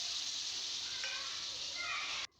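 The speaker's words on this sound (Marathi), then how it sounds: "त्यानंतर मसाला एक मिनिटभर परतून घ्यायचा आहे आपल्याला एकदम कमी शेगडीवरती" Steady low hiss of masala frying on a low flame, a continuous soft sizzle with a faint stir midway, cutting off abruptly at the end.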